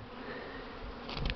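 Honeybees, some half-frozen and gathered near the hive on a cold day, give a steady outdoor buzz with a few brief louder bursts toward the end.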